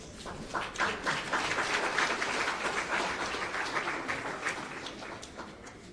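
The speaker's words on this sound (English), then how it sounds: "a very big round of applause for all our winners" A large audience applauds award winners at a national science and technology medal ceremony in Jamaica, with dense, sustained clapping that swells early and holds steady throughout at a moderate distance.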